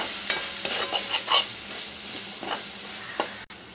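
Malvani masala with garam masala, red chili masala and a pinch of turmeric sautéing in a pan: a continuous bright sizzle and hiss with soft irregular stirring scrapes throughout, close up, no talking.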